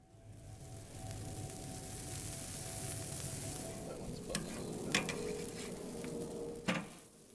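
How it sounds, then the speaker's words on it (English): Oiled pizza dough sizzles on a hot grill in a soft, steady hiss, with a few light clicks and scrapes near the end as it is stretched. "place the oiled side onto the grill, stretching it as necessary"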